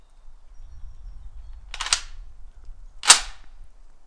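Two sharp, loud shots from an M1 Garand rifle fitted with a ported gas plug, fired about a second apart, each a crisp crack with a short decay over quiet outdoor background.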